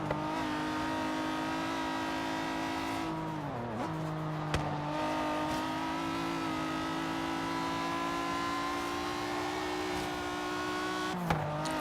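A McLaren F1 in the racing game Forza Horizon 3 drives Goliath Circuit, its engine droning loudly and continuously with rising revs broken by a few quick gear shifts, with no voices.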